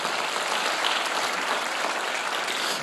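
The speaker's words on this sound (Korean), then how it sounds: "박수하세요." A Sunday worship congregation at Jesus Center Church claps together in a sustained, even wash of applause from many hands, filling the room without a break.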